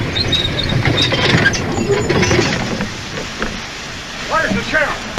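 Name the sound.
train arriving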